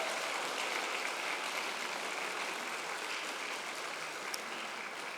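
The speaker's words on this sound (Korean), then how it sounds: "국현수 교무님을 뜨거운 박수로 다시 맞아주시면 감사하겠습니다." An audience at a faith-themed concert claps warmly, welcoming a harmonica soloist back to the stage, with dense, even applause that holds steady throughout and has no talk over it.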